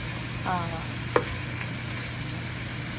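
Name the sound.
chicken frying in a pan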